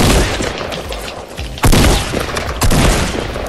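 Gunfire in the video game Fortnite, a loud sustained crackle of shots with two sharper bursts standing out, dense and close with no talk over it.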